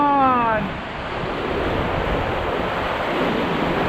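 Whitewater rapids on the river at Rishikesh during raft paddling: a loud, steady rushing roar of churning water with wind buffeting the microphone throughout.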